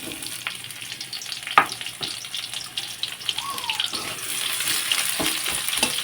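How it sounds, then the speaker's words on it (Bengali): Onions frying in oil in a home kitchen, a busy crackling sizzle with stirring knocks and a few sharp clatters, building slightly louder toward the end, no speech. "পেঁয়াজগুলো লাল লাল করে ভাজা হয়ে যাক।"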